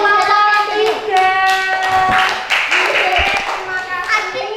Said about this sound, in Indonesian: Iya, tepuk tangan untuk kelompok 3.